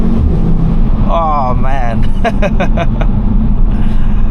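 A 2014 Audi RSQ3's five-cylinder engine drones steadily while driving, a constant loud cabin hum with wind noise from an open panoramic sunroof, as a man exclaims briefly over it.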